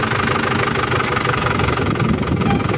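A loud, close engine runs with a dense, steady rumble and a slight knocking texture throughout, holding a constant level with no clear revs.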